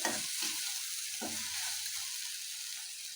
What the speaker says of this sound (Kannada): ನೀಟಾಗೆಲ್ಲ ಟೊಮೊಟೊ ಸಾಫ್ಟ್ ಆಗೋವರೆಗೂ ಚೆನ್ನಾಗಿ ಸ್ವಲ್ಪ ಲೋ ಫ್ಲೇಮಲ್ಲಿ ಚೆನ್ನಾಗಿ ಫ್ರೈ ಮಾಡ್ಕೊಳ್ಳಿ